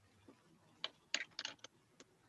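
Faint, sparse keyboard clicks at a committee meeting: a few isolated keystrokes, then a short cluster of quick taps, all quiet against a soft room hush, with no talking.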